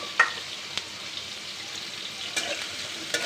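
Oil heating in a wok before fish belly goes in, a soft steady sizzle with a few sharp clinks and scrapes spaced through it.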